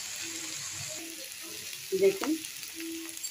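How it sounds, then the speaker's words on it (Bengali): Cauliflower and potato fry in a pan of half-cooked spice paste, a soft sizzle with a few stirring scrapes and clanks, and a brief spoken word at the start. "আমি এর মধ্যে এখন ফুলকপিটা আর আলুটা দিয়ে দিচ্ছি, দিয়ে এবার একসঙ্গে এগুলো একটু কষাবো।"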